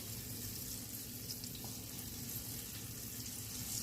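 Squirrel meat frying in a pan on a wood stove gives off a steady, dense sizzle with a constant crackling hiss, holding even and moderately loud throughout with no voices.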